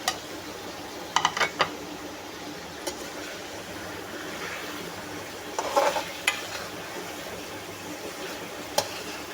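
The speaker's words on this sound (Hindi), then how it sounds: "अब मैं इसमें डालूँगी टमाटर" Tomatoes go into a pot of frying chicken over a soft, steady sizzle, followed by sharp scraping and clanking stirs in short clusters, near and fairly loud, with no voices.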